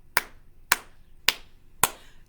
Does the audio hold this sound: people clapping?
yes